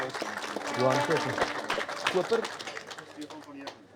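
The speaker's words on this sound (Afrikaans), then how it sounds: "Kom ons gee hom 'n lekker hande klap." A crowd at a Bonsmara cattle auction claps and cheers after a sale, loud at first then tapering off, with voices talking over the applause.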